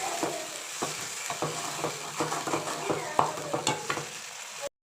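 Ridge gourd sautéed in a pan for thuvaiyal, a soft continuous sizzle with regular scraping strokes of a spatula, close by and with no talking.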